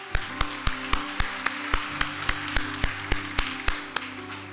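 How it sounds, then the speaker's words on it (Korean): A church congregation in Korea claps in a steady, evenly spaced rhythm, sharp and distinct, over sustained keyboard or organ tones, with no talking. "우리 하나님께 감사와 영광의 박수를 드리겠습니다"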